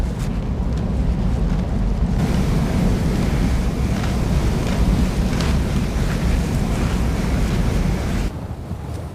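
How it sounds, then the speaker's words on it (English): Sharp, steady wind gusting across an empty winter mountain range on Jiri Mountain, a continuous loud roar with low rumble and hiss, easing briefly near the end. "You can only hear the sharp blow of the wind in the empty mountain range."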